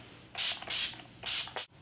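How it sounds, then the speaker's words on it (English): Urban Decay All Nighter makeup setting spray misted onto a face in three short hissing bursts, close and clear, with a faint click after the last one. "I'm just using my Urban Decay All Nighter makeup setting spray"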